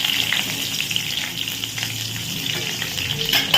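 Whole spices and green chillies crackle and sizzle steadily in hot mustard oil after potatoes were fried, a dense continuous frying hiss with no talking.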